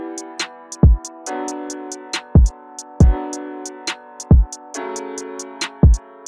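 Drill-style beat with deep sliding kick hits, a chop snare and rapid hi-hat ticks over a sustained chord pad, looping with a steady, punchy rhythm.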